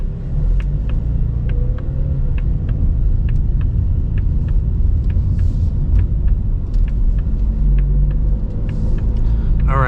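A 2025 Ford EcoBoost Mustang on the road, heard from inside as a steady low rumble of engine and tyres with faint ticking above it, continuous and moderately loud.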